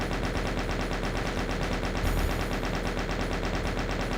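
Chaingunner enemies in the Doom game Eviternity fire in a continuous rapid burst, a loud, even rattle of shots running unbroken throughout with no talk.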